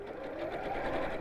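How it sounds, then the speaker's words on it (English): A domestic sewing machine running steadily in a zigzag stitch, a continuous close-up whirring hum with a fast mechanical rhythm and no pauses, heard alone. "So again, just zigzagging around, stopping in the crease."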